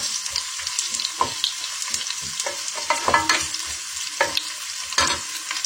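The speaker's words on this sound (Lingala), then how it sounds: "natie matungulu na moto mpona kolamba matembele" Onions frying in hot oil while cassava-leaf matembele with pilchard is being prepared, giving a steady close sizzle with scattered crackles and stirring scrapes throughout.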